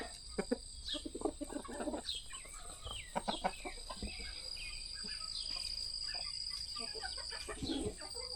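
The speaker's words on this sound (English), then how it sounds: "It's a big old rooster." Clucks and short calls from a large rooster and other fowl come through faintly outdoors in wet weather, scattered and irregular, over a steady high chirring of crickets.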